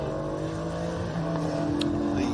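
Sports sedans racing along the back straight at Sydney Motorsport Park, a steady engine drone heard from a distance under a commentator's voice, with a brief sharp higher whine partway through.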